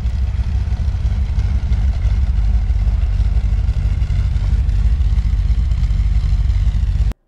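An MGB GT V8 Coupe engine runs loud and close, a steady deep rumble with constant low throb and no variation until it cuts off abruptly.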